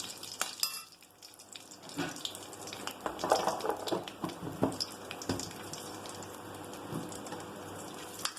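Whole spices, star anise among them, fry in oil over a low flame, a close crackling sizzle with scattered pops and small stirring knocks running throughout, and no one talking.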